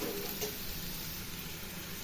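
Onions, green chilies and curry leaves frying in hot oil with cumin seeds, a steady close sizzle that holds at an even level throughout, with no voices.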